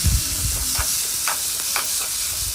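Onion, green chili, tomato and garlic fry in oil in a pan for a chutney, giving a steady sizzle broken by a few stirring scrapes, close and without speech.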